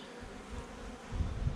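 Honey bees buzzing at a backyard hive, a faint continuous hum that grows slightly louder toward the end of the brief moment.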